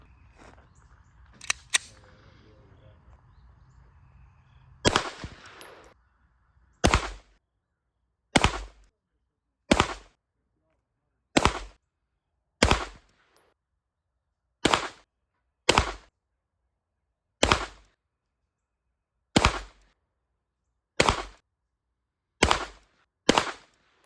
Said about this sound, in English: we're going to shoot this one and see how it shoots